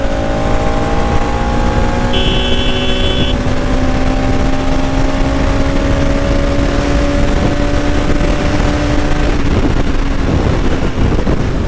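A Bajaj Pulsar NS 200 motorcycle, BS6 model, is ridden hard on a bypass road, its engine droning loud and steady with rising pitch as it accelerates, while wind rushes past and nobody speaks.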